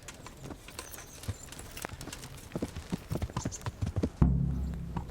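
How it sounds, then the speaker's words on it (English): Horse hooves clip-clop in a steady, rapid rhythm in the medieval game Kingdom Come: Deliverance, close and moderately loud, ending with a heavier low thump. "I get on the horse, right?"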